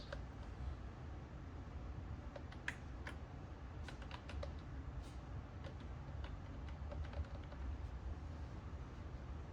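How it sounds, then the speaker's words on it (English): Typing on the keyboard of a ten-year-old laptop, faint scattered key clicks over a low steady hum, with a few quick bursts of taps. "type yes and click enter"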